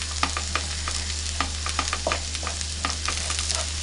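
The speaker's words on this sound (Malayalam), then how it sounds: "ഈ മസാലയുടെ പച്ചമണമൊക്കെ ഒന്ന് പോണവരെ ഒന്ന് നമുക്കൊന്ന് ഒന്ന് വഴറ്റാം" Masala for a restaurant-style vegetable curry is sautéed in a pan with fresh coriander leaves, giving a steady sizzle broken by repeated scraping strokes of a spoon, close and moderately loud, with a low constant hum underneath.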